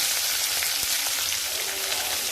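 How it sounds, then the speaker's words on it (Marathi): Chopped onion frying in oil with cumin and curry leaves, a dense close hiss of steady sizzling with no talk. "त्यानंतर जिरे टाकते, त्यानंतर कढीपत्ता आणि आता बारीक चिरलेला कांदा टाकते"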